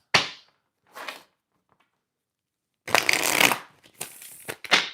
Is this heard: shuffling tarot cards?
yes